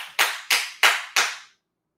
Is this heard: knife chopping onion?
no